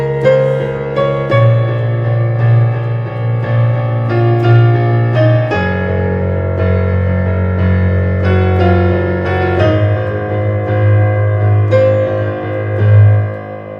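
Solo piano loops the intro of a song with a rolled figure, a sustained, steady pattern of low bass notes under repeating mid and high notes, played alone and without voices.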